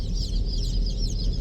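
Native country chickens at a poultry farm cluck steadily and close by, forming a dense, busy flock chatter over a low background rumble, with no voices.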